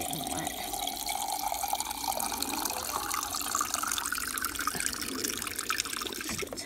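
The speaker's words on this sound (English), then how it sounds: "So I'm just filling the watering can up from our water butt." Water gushes steadily from a garden water butt into a watering can outdoors during heavy rain, a continuous close splashing flow with rain patter around it.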